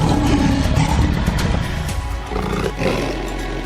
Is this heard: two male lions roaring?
yes